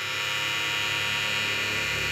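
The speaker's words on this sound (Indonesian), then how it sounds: "Seperti ini guys, suaranya guys. Kita nyalakan KM831." A KM831 cordless hair clipper runs with a steady, even electric hum and high buzz, close up and constant for the whole stretch with no talk.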